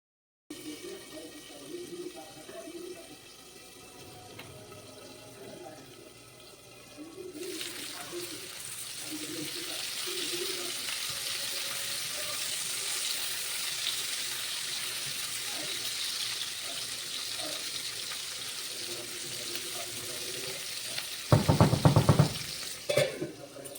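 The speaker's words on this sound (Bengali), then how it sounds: "আগে ফুলকপিটা ভেজে নিই" Cauliflower pieces fry in a pan with a faint hiss that swells into a steady, soft sizzle, broken near the end by a brief clatter.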